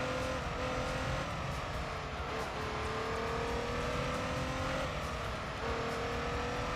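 Race car engine in the Gran Turismo 3 video game, droning steadily as it brakes and accelerates through corners, pitch shifting with throttle changes and a hint of tire squeal, loud and continuous without talking.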